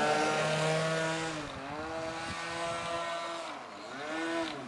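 Engine of an RC airplane flying touch-and-go circuits, a buzzing high-pitched whine that rises and falls repeatedly as the throttle is worked, steady and fairly close, no talk.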